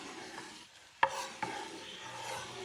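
A homemade glaze for bison back ribs gets stirred in a pan over about medium heat, soft scraping and rubbing strokes with one sharp knock of the utensil against the pan, otherwise quiet.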